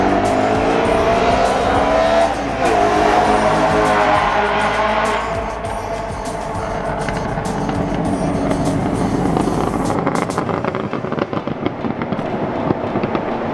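Caged convertible BMW E93 M3 with a fireball tune, its engine roaring loud and close before tailing off into a rapid, crackling string of exhaust pops and bangs with tire squeal.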